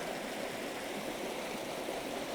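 River water flows steadily with a soft, even rush, close by and continuous, with no other sounds.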